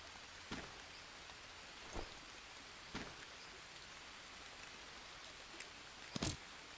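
Steady rain falls in the jungle survival game Green Hell, a faint even wash of drops with a few soft louder splashes or thumps scattered through it.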